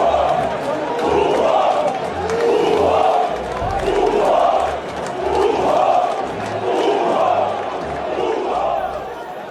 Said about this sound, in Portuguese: a torcida perdeu a paciência e gritou burro pro técnico Fernando Diniz no fim da partida